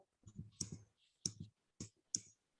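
An anti-gravity pen is clicked four times in a steady, close, fairly faint sequence of sharp clicks with gaps between them, heard alone.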